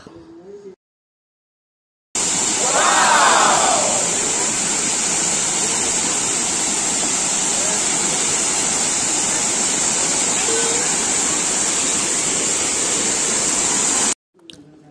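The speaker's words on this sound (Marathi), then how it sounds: "आपण धबधबे बघायला जाणार आहे" Constant roaring rush of a waterfall near Satara, loud and steady, with a brief voice near the start and short quiet gaps at the edges.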